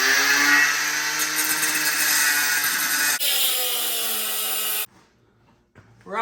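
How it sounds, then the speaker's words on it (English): Bolts being cut on the rear suspension of an Infiniti G37, a loud close grinding cut with a harsh metallic whine that stops abruptly, followed by near quiet and a faint clatter. "we're going to be cutting bolts"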